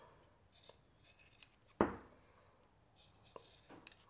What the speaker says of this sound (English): which I'm now going to give a good haircut to. And I'm going to cut.